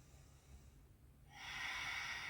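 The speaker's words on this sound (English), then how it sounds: "relax and exhale" A slow, breathy exhale during a grounding yoga session swells out after a quiet pause, soft and close with an airy hiss that holds to the end.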